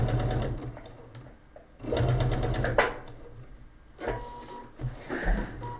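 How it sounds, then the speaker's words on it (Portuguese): A sewing machine stitches patchwork hexagons, its needle running in close, steady bursts that pause and restart several times across the stretch. "Eu parei com a agulha para baixo e vou costurar sem tirar a máquina."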